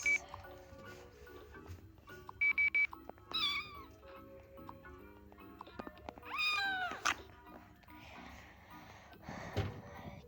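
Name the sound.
cat meowing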